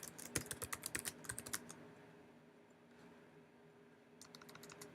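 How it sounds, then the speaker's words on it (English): Quiet typing on a computer keyboard: a quick run of light, clicky keystrokes, a short pause, then a few more taps, close and soft against a faint room hum. "You can start to type."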